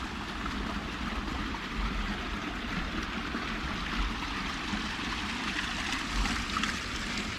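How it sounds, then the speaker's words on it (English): Water trickles steadily along a small channel running through a Moorish citadel in Almeria, a soft continuous flowing murmur with no talk. "Look at that, lovely little water feature"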